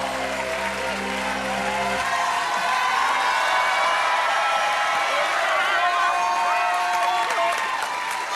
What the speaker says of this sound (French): Merci les sosies, applaudissements pour les sosies